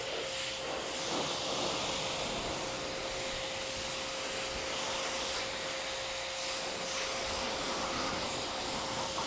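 A steady, close hiss of water spray rinsing foam off a car, constant and unbroken throughout with no talking.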